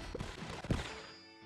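A short, dense flurry of popping blasts from Boomberry explosive berries in Plants vs. Zombies 2, like a cluster of small game explosions going off at once, fading into a low ringing tail.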